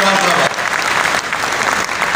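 Loud, dense applause sweeps through the crowd at an all-India mushaira poetry gathering after a couplet is recited, with voices mingling in the clapping.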